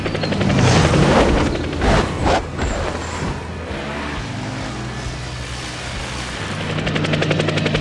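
Firefighting aircraft in a Planes: Fire & Rescue game dive and drop retardant over a forest blaze, a loud rotor-like engine roar with heavy rumbling booms early on, settling into a steady drone that swells again at the end.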